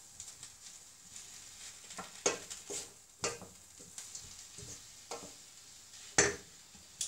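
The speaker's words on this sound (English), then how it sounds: "Then, give that a stir." Red onion chutney stirred in a pan, soft scraping and tapping strokes at an irregular pace over a faint sizzle, fairly quiet with no talking.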